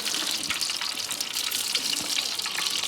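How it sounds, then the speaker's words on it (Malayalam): Coconut oil pouring into a hot uruli pan on the stove, giving a continuous hissing, splattering sizzle that stays steady and fairly close for the whole moment. "ഉരുളി അടുപ്പത്ത് വെച്ച് ചൂടായി വെളിച്ചെണ്ണ ഒഴിച്ചു കൊടുക്കുവാണ്."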